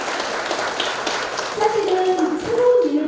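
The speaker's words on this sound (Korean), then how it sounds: "우리 세일센터, 우리 광역세일센터에 좀 박수 한번 주시면 안 될까요?" Audience applause at a Korean business briefing for a women's career-break prevention program, a steady wash of many hands clapping at moderate volume that swells slightly toward the end, with faint tonal sounds beneath.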